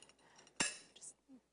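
A fork and knife cut into an air-fried cauliflower bite on a plate, one sharp metallic clink followed by a faint scrape, brief and quiet.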